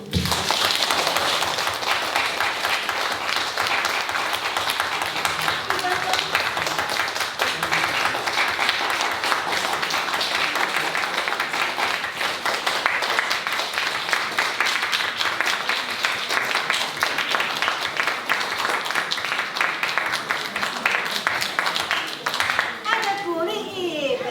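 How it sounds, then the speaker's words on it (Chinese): A church congregation applauding at a Christmas Sunday service, dense sustained clapping from a large crowd filling the hall for over twenty seconds, with voices including children's mixed in. "再一次把最大的掌声最好的这个掌声献给彼此，也献给我们的上帝最大声的哦"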